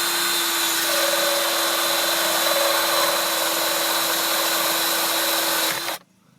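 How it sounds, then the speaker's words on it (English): A power drill with an auger bit whines steadily at high speed for about six seconds, loud and close, boring a 3/4 inch hole through a panel in a Honda CR-V before stopping abruptly. "So we'll just quickly drill with the power auger."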